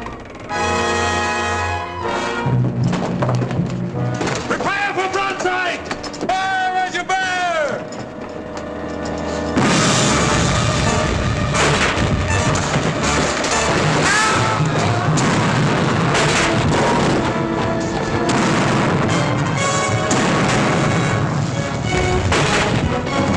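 Ship cannons fire a broadside in a 1952 pirate-era sea battle film, heavy booms and rumbling blasts over a loud orchestral score and shouted orders, growing denser and louder partway through.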